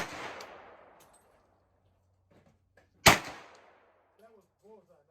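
A child fires a gun at a target: one sharp, loud report with a short ringing decay, preceded by quieter rustling and followed by brief adult voices.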